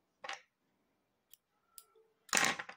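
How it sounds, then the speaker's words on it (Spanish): Scissors snip through yarn during a small crochet keychain project, with a sharp cut at the start, a few faint clicks, and a louder rustling snip near the end, with no voices. "cortamos el hilo bastante largo"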